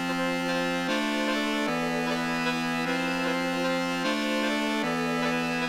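Harsh, buzzy Serum synth lead plays sustained fifths, alternating between two held pitches in a slow repeating loop, dense and bright throughout with nothing else heard.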